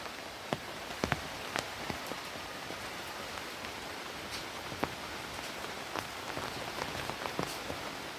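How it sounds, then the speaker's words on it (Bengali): Sudden heavy rain falling steadily, a dense broadband hiss of drops on surfaces with occasional sharper drips and taps standing out, no voices. "হঠাৎ করে বৃষ্টি নেমে গেল।"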